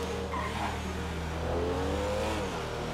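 Car engine in Grand Theft Auto V, a continuous revving drone with shifting pitch, steady and fairly loud throughout, no talk.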